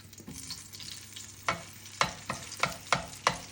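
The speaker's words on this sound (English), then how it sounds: "Right, got some boiling hot oil here." Pieces of pheasant spit and crackle in boiling hot oil on a home stove, a low sizzle punctuated by a series of sharp pops and stirring clacks, close and fairly loud, with no talking.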